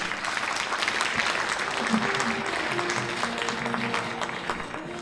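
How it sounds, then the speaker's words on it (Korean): Audience applause at the opening ceremony of an international intellectual property conference in Korea, welcoming the patent office commissioner; steady, moderately loud clapping from a seated crowd that fills the whole stretch without letting up. "여러분 큰 박수로 맞아주시기 바랍니다"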